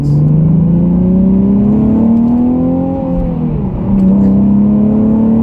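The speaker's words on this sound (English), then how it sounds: "It just has like this nice mechanical sound to it with the stock exhaust." A Nissan 370Z Nismo engine with stock exhaust hums loudly and smoothly, its pitch rising as it revs up, dipping briefly, then climbing again under acceleration.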